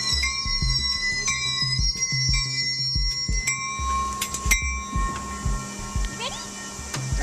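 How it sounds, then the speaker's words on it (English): A loud train rumbles and clatters close by as it pulls into a station, with heavy low-end thumps, screeching metal and a bell-like ring. "the train pulls into the station because one, it's really big and it's also very loud"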